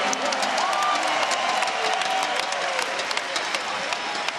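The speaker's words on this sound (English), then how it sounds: "please give these two warriors a big round of applause in your main event tonight" Crowd applause and cheering for two fighters after a wrestling main event, a dense, steady wash of clapping with scattered whoops that fills the hall while an announcer speaks over it.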